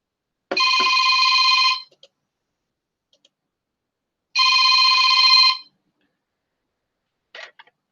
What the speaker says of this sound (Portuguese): Deixa eu só atender uma ligação aqui rapidinho.